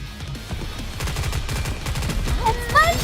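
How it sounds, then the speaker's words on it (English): Rapid automatic gunfire rattles in the video game NIKKE, a dense fusillade of close shots in quick succession, followed near the end by bright chiming game effects. "It's fun shooting though."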